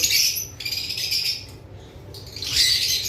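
Lovebirds, including a black and green pair and opaline types, give sharp high squawks and chirps from a cage close at hand in two bursts with a quieter gap between, and no voices.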